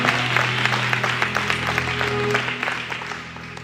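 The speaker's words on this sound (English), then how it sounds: "We clap hands for Jesus." A church congregation claps hands together in praise during a worship service, a dense, steady roar of applause that fills the room with a low droning hum beneath it.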